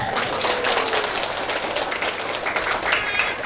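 Audience clapping at an Islamic religious talk in Indonesia, a steady, fairly close patter of many hands lasting a few seconds with no voices over it.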